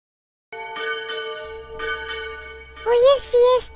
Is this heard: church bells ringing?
yes